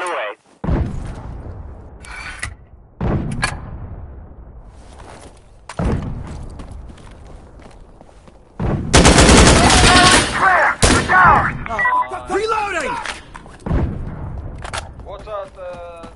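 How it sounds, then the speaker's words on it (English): In a video game, artillery fires explosive rounds, several heavy booming blasts spaced a few seconds apart with long decaying tails, then a dense roaring barrage, with voices speaking between the impacts. "Requesting explosive rounds here! Fire the guns! Hit him hard!"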